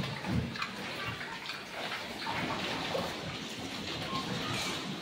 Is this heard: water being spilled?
yes